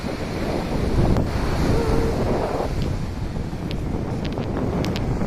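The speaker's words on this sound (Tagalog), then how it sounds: "Lakas po ng alon guys oh." Strong waves on an island shore, a rushing surf roar mixed with heavy wind buffeting the microphone, steady and close with no talking.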